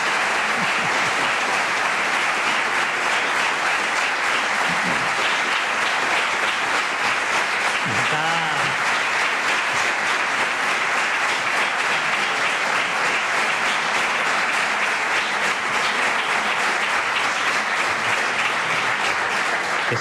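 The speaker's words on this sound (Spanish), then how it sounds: "el próximo aplauso norcoreano a Pedro Sánchez tiene que superarlo" A large crowd gives Pedro Sánchez prolonged, dense applause that stays loud and steady without a break.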